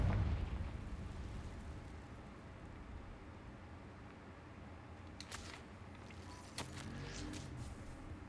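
A Confringo blast spell bursts with a loud low boom at the very start in Hogwarts Legacy, followed by a steady rumbling ambience and a few sharp crackling bursts later on.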